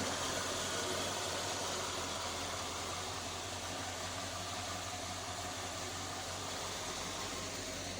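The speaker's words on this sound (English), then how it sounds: "So here it is running idling." The engine of a 1950 Ford Custom shoebox hot rod idles steadily, a constant low rumble with a broad hiss that holds even and unbroken throughout, with no talking.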